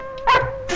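A dog gives a single short, sharp bark or yip up close in a Telugu film comedy scene, brief and alone against quiet background tone.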